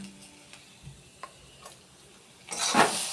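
Curry being stirred and fried with a metal spatula in a pan, with a few soft scrapes and taps before a louder burst of sizzling near the end.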